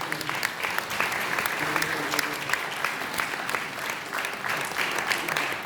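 Warm applause from mourners at a eulogy rises as a steady ripple of clapping, moderately loud and sustained for several seconds, with a few faint voices underneath.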